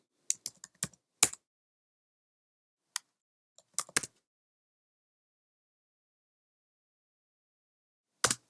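Typing on a computer keyboard, a few quick clusters of sharp key clicks separated by silent pauses, close and quiet.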